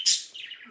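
A pet bird gives a single bright, loud chirp followed by a softer, falling trill, close by and with no talk over it.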